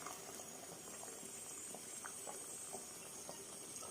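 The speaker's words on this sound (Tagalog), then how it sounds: "kumukulo na yung saging na niluluto ko" Bananas boil in a pot of water, a quiet, continuous bubbling with soft pops and faint steam hiss, heard up close and alone.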